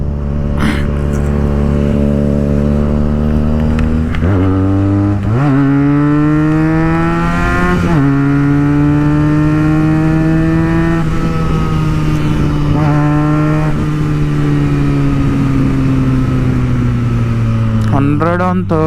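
A Benelli TNT 300 motorcycle ridden on the road, its engine loud and close as it climbs through gears with rising whines, each shift dropping the pitch before it climbs again, steady throughout.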